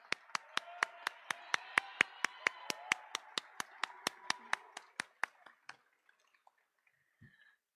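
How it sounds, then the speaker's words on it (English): A single person claps about twenty times in a steady, quick rhythm at a student-athlete awards event, close and fairly loud, then the claps stop and the sound fades into near silence. "Let's give them another round of applause"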